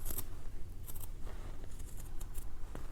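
Scissors trim thread close to the stitching on a sewn sling bag, giving a few crisp, close snips spaced apart over a quiet background.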